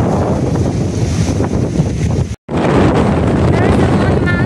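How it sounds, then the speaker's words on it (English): Strong wind roars against the microphone as waves crash against a seaside structure, a loud, continuous wash that cuts out for a split second midway and then resumes. "Waves crushing it and filling it with water."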